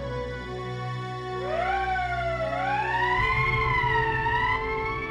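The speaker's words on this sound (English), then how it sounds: "That's the emergency siren." An emergency siren in the Valkyria Chronicles video game rises and falls in loud, wavering tones over a low droning background, swelling in mid-clip and continuing to the end.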